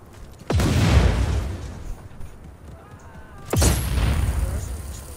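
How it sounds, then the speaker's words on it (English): Two heavy booming blasts from explosions in the Just Cause 4 video game, each hitting hard and then rumbling on, the second about three seconds after the first, both loud and close. "There was an explosion."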